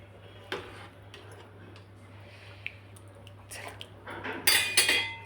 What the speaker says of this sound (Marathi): त्याच्यावर झाकण ठेवून देते मी.